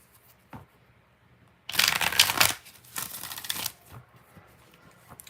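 Tarot deck shuffled in two distinct bursts of crisp riffling, close and fairly loud, separated by a short pause, with faint background murmur before and after.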